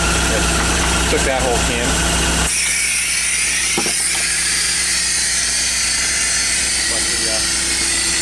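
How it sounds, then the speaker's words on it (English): A VW bus engine idles steadily and loudly, its AC compressor and noisy front fan running, while someone talks over it. "the motor, she's running really nice."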